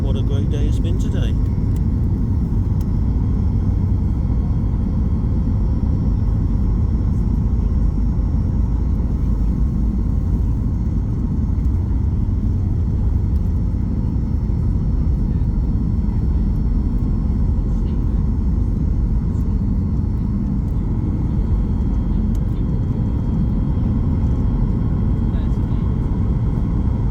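Constant loud low rumble of a passenger airliner cabin in flight departing Bergamo, Italy, a dense steady roar that barely changes, with a voice speaking over it throughout.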